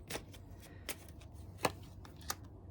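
Oracle cards shuffled by hand, a soft papery riffle with a few sharper snaps scattered across a quiet background, close and fairly faint, with no talking.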